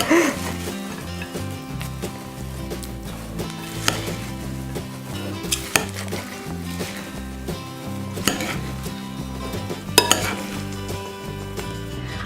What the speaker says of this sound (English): So now we're gonna stir this all together.